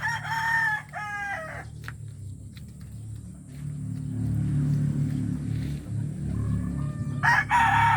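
A rooster crows loudly at the start and again near the end, over a steady low rumble of background noise.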